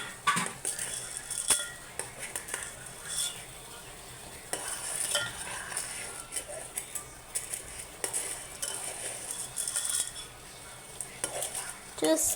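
Silverware sits with aluminium foil in a pan of hot liquid, bubbling and sizzling quietly while utensils and pieces clink and scrape now and then, a soft, busy stovetop texture.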